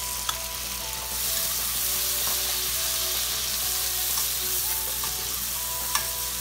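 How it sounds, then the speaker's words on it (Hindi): Onions and chopped tomatoes sautéing in a pan, a dense continuous sizzle with faint stirring and occasional small clicks of a utensil, close and steady throughout. "इसे भी हम हल्का सा भून लेंगे।"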